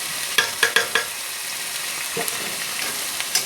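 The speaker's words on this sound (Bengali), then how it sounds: "মশলাটা সুন্দর করে কষিয়ে নেব" Spice masala with turmeric and salt, for a hilsa and eggplant curry, sautés in a pan, a steady sizzle broken by several sharp clinks and scrapes of a stirring spoon, close by and with no voices.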